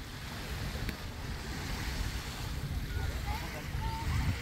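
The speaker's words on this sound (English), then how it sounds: "Oh, what a nice beach." Surf washing ashore at Sombrero Beach in the Florida Keys, a steady low rumble of waves with wind buffeting the microphone, continuous and fairly close.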